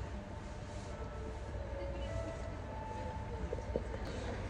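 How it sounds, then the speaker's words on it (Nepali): A train travelling from Tortosa towards Rome rumbles along its rails with a steady low roar and faint squeals, heard from inside a carriage at moderate volume. "ट्रेनमा छौँ ब्याक टु रोम"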